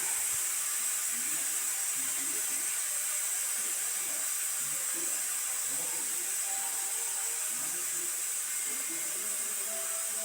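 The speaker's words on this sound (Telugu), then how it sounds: "ఆయిల్ హీట్ ఎక్కిన తర్వాత ఉల్లిపాయలు ఫ్రై చేసుకుందాం" Onions sizzle in hot oil with a steady, bright frying hiss that runs unbroken throughout, with faint low clatter underneath.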